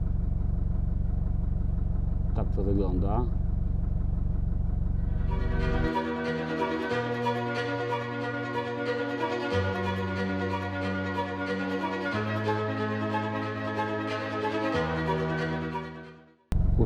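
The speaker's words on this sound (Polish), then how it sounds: "No i mamy połączenie, ale musiałem silnik włączyć." A parked car's engine runs while an antenna system draws power: a loud low hum at first, then a steady, harmonic idle drone that shifts pitch in small steps and cuts off near the end, with a brief spoken remark early on.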